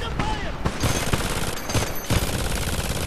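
Dense, continuous automatic gunfire in the shooter game Homefront during a team deathmatch on the CulDeSac map, rapid overlapping shots filling the whole stretch, loud and close.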